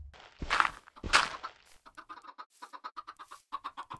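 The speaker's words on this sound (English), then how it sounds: "There is a lot of chickens around here now." Chickens in the Minecraft video game cluck in a quick run of short, evenly spaced clucks after a couple of louder thumping sounds, close by and with no voices.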